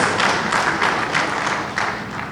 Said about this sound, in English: A round of applause. Please, a round of applause.